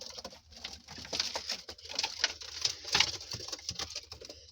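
Soft cooing of pigeons, close and continuous, mixed with fluttering and pattering movement; no voices.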